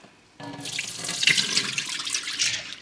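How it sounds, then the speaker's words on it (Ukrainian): Water runs from a kitchen tap into a sink as soaked dried peas are rinsed and the cloudy water is poured off, a steady close splashing that starts abruptly and continues to the end. "Спочатку помиємо, мутненьку водичку зливаємо."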